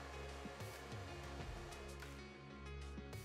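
A hair dryer with a heavy diffuser attachment runs on its cool setting, giving a steady, faint motor whir and airflow hiss with soft handling noises over it.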